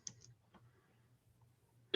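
Computer keyboard keys are pressed to navigate a form. A few sparse, faint clicks come from nearby over a low steady hum, and there is no talking.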